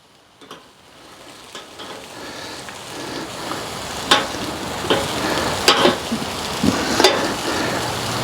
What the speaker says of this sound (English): now I'm going to rotate the steaks